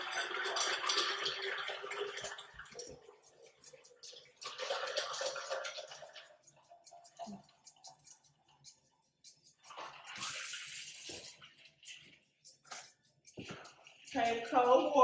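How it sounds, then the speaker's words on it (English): Cold tap water runs into a container being filled for flowers at home, coming in a few loud, gushing bursts separated by quieter pauses, with a person talking in between. "So I'm gonna fill this up with cold water."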